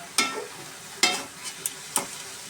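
Greens sizzle softly in a pan while a utensil scrapes and stirs in four sharp strokes spaced about a second apart.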